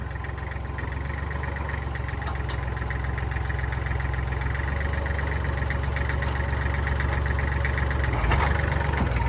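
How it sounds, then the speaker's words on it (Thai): Steady, loud diesel drone of a Kubota L3408 tractor engine running close by, a low continuous rumble with a faint knock that holds level throughout, with no talking. "จะมารีวิววิดีโอ การทำงานของรถไถคูปต้า L 3 4 0 8 ค่ะ"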